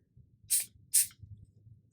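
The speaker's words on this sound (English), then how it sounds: "Give it a spray." Two quick hisses from a water spray bottle misting an ink and pen drawing, close and sharp, about half a second apart over a faint low background hum.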